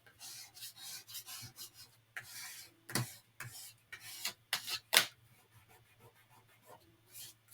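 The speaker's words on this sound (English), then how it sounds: "Rub that glue off right there." Glue is rubbed off a handmade Halloween craft journal in short, close, scratchy strokes, with irregular bursts and occasional sharper taps against a quiet background.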